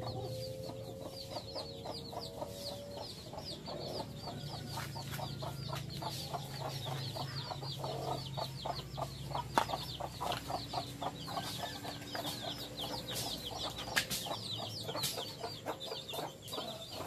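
Chickens cluck and chatter close by in a rural Mekong Delta yard, a busy stream of short repeated calls over steady outdoor background noise with no speech.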